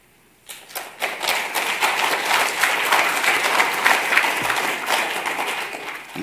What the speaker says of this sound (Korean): 손들고 박수해보라요.